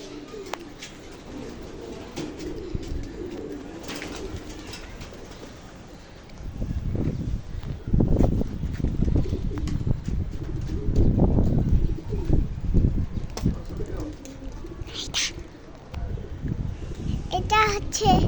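Domestic pigeons in a house coo softly in low, repeated notes, with a few wing flutters and children's voices chattering over them.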